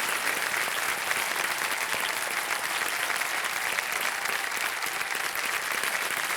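Thick, continuous applause from a studio audience on a televised Hindi quiz show, loud and even for the whole stretch with no voices on top.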